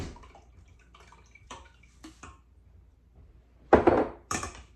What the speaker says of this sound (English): I'm just going to pour this off again.